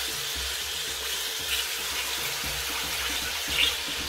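Chopped onion and tomato fry in a pan with a steady, close broadband sizzle that continues without pause.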